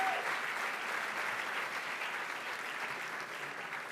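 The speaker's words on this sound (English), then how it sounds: "Can we get another round of applause for Mr." Audience gives a steady, fairly distant round of applause at an Army Week gala, continuous dense clapping with no break.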